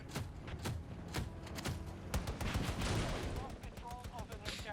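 Video game gunfire from Battlefield 2042 crackles in rapid, overlapping shots and bullet impacts, dense and fairly loud, with a voice talking underneath.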